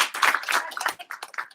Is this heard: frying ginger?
no